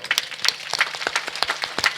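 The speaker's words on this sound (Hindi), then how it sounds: "चलो ताली बजाओ" A gathered audience at a devotional Ramayana recitation claps hands, a brisk, dense patter of many palms continuing throughout at a lively, fairly loud level.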